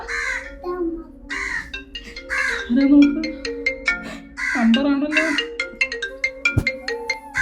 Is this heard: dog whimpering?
no